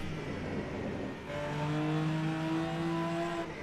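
Racing car engine in the Rennsport sim racing game, revving with rising and falling tonal whine across several gear shifts, loud and steady with no talk.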